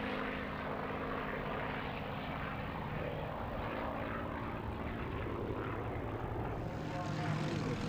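Vintage piston-engined Messerschmitt and Hurricane fighters twist and turn in a mock dogfight at the Duxford Flying Legends air show, a continuous loud engine and propeller drone throughout, with a voice speaking over it.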